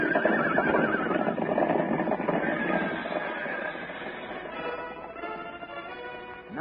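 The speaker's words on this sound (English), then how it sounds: "Now toward the ranch house comes another horse." Horses neighing and whinnying loudly on a ranch, several overlapping calls with faint hoofbeats beneath, fading slightly toward the end.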